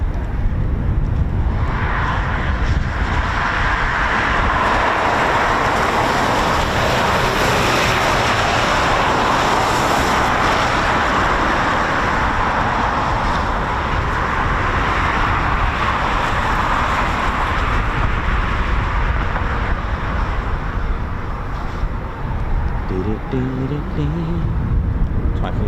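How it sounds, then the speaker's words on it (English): Eurofighter Typhoon FGR4 jets taxiing at RAF Coningsby produce a continuous loud engine roar and whine that holds steady, with some voices faintly under it. "Typhoon's just taxiing down at their holding point."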